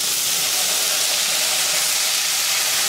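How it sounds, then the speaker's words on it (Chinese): Doubanjiang, hotpot base and Sichuan peppercorns frying hard in a wok, a loud, dense, unbroken hissing sizzle held close and constant for the whole stretch, with no talk. "把你的豆瓣儿继续给它爆香，火锅底料花椒下锅"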